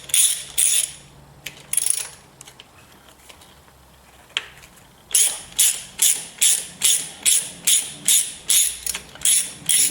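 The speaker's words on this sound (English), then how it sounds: "Now we take these 1, 2, 3, 4, 5 bolts off." A ratchet loosening 10 millimeter valve cover bolts on a 2000 Acura TL 3.2 engine, with rapid clicking bursts, a pause, then a long regular run of ratcheting strokes close to the microphone.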